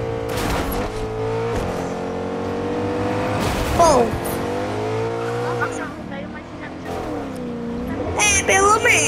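A car driven in the Fortnite battle royale video game: a loud, continuous engine hum that rises and falls as it revs, with squealing tires near the end, while people talk over it.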